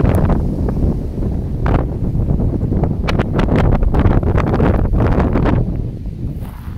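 Wind blows across a dry creek bed outdoors, buffeting the microphone with a steady, dense rumble and rustle that swells in gusts throughout.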